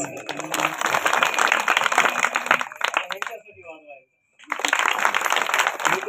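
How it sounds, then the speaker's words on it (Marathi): Loud, sustained applause from an audience at a Hindu devotional gathering, an Akhand Harinam Saptah anniversary event, dense clapping that pauses briefly then resumes just as strongly. "एकदा सर्वांनी जोरदार टाळी वाजून घ्या स्वतःसाठी"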